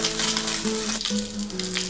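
Salmon fillet frying skin side down in a hot skillet, a loud continuous sizzle and crackle with faint scraping and small clinks over it.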